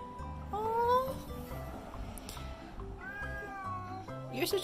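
A cat meows several times in close succession, clear and near, with drawn-out rising and falling cries over light background noise.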